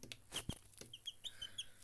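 Two young chicks give soft, high peeps, a few short scattered chirps, faint and close, over a quiet room.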